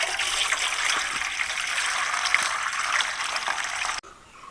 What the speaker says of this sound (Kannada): ಈ ಬಿಸಿ ನೀರು ಎಂತಕ್ಕೂ ಬೇಡ, ಚೆಲ್ಲದೆಯ.